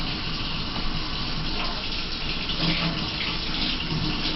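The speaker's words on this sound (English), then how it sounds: "First you want to turn on the water, make it warm." Continuous rushing of warm water pouring from a tap into a sink for handwashing, steady and close, with no other sounds.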